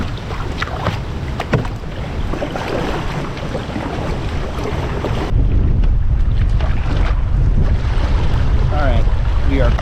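A small paddled boat, a canoe or kayak, crosses a large open stretch of water at night in high wind. Gusty wind buffets the microphone throughout, and water sloshes and splashes against the hull close by.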